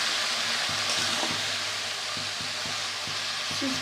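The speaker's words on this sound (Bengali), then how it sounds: "এবার আমি ডাটাগুলো দিয়ে দিলাম পরে পাতাগুলো দেবো" Spinach stems hit a hot pan and fry with a steady, loud hiss and crackle, a few soft clinks of stirring underneath, no voices.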